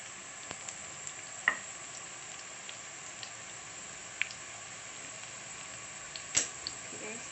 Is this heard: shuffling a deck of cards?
no